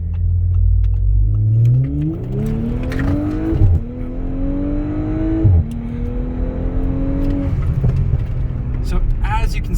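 A tuned Audi S5 B9 with an Integrated Engineering Stage 1 tune accelerates hard from inside the car, its engine note rising loud and close through several gear changes, with brief dips between the pulls.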